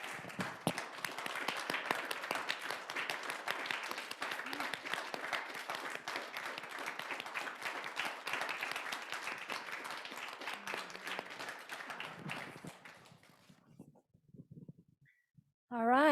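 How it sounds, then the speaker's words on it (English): Audience applause at an annual meeting: sustained clapping from a crowd, steady and dense for about twelve seconds, then thinning out and fading to a few scattered claps. "So let's give Jeff just a big round of applause."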